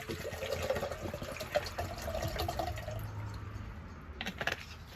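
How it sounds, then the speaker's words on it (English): Water poured from a container into a small pot outdoors at an allotment, ready to boil on a camping stove; a soft, steady trickle and splash runs for several seconds, fairly close, with a few clinks near the end. "let's get some water in"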